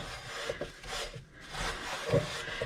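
Surface rust is scrubbed lightly off a cast iron frying pan, close rasping strokes in an irregular back-and-forth rhythm, fairly quiet with no voices.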